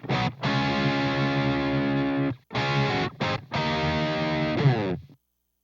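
A distorted electric guitar, not tuned to a tuner, plays sustained chords that sound slightly out of tune, broken by short pauses, loud and close.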